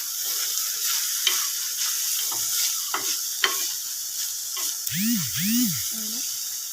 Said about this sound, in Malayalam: ഞാൻ ഒന്നാഴ്ച ഇളക്കിയിട്ട് അതവിടെ മൂടി വെക്കണം